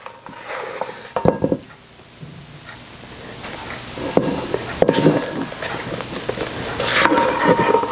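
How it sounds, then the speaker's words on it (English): Meringue being spread over cake batter in baking pans for a pineapple meringue cake, heard as close, intermittent scraping and clinking of a utensil against metal pans and bowl, with irregular taps and soft smears throughout. "I am to take the meringue and spread it over the top of this."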